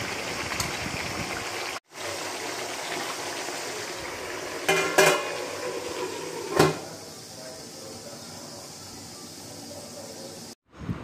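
A lid is set on a pot of kadhai mutton cooking on the stove, making a couple of close metallic knocks and clatters against a steady hissing simmer, with no one talking.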